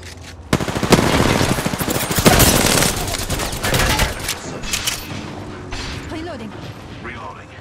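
In the Apex Legends video game, loud bursts of automatic gunfire and rattling weapon mechanics fill the scene, with sharp shots and reload clatter up close and game voices speaking over the action.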